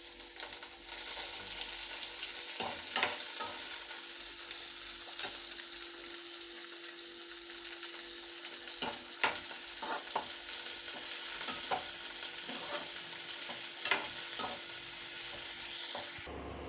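Cumin seeds frying in hot oil give a steady, dense sizzle throughout, with occasional sharp pops and clicks of stirring against the pan, alone and close.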